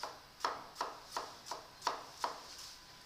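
A knife cutting a vegetable into julienne matchsticks on a board, seven crisp evenly spaced chops about a third of a second apart, quiet and close with no talk.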